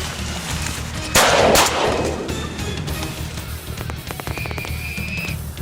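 A loud, close shotgun blast rings out during a duck hunt for a drake in South Dakota, followed by fainter rattling and a thin whistle-like tone over outdoor background noise.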